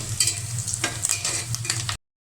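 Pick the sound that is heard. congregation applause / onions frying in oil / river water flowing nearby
onions frying in oil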